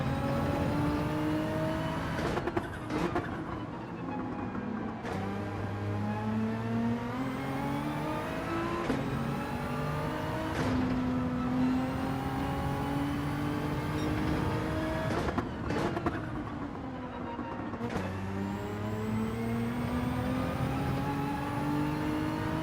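Race car engines in Gran Turismo 7 during a GT World Series Manufacturer race, with a Porsche and a Ferrari running close: loud, sustained engine notes climbing in pitch through each gear, then dropping sharply at shifts, repeating with no talk.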